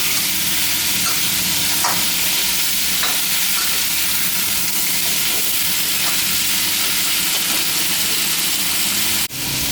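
Pumpkin stir-fries in a hot pan with a loud, continuous sizzle and occasional scrapes of stirring, close up and with no talking.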